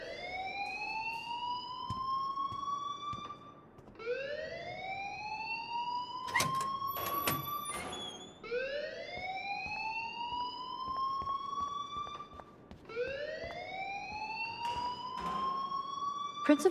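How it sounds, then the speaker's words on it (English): A school alarm in the video game Life is Strange wails in long rising sweeps, about one every four seconds, moderately loud and steady, with a few sharp clicks in the middle and no talking. "please turn off that alarm since that's your job."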